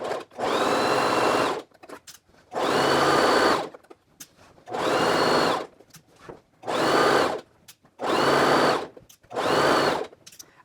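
A sewing machine stitches a skirt seam in six separate runs of a few seconds each, its motor buzzing loud and close, with short quiet pauses between runs.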